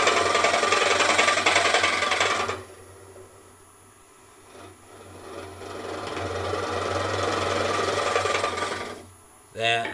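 A woodturning hollowing tool cuts shavings from a spinning bowl blank on a lathe, giving a loud continuous rasping scrape that drops to a quieter hiss midway, then rises again before a brief sharp scrape at the end.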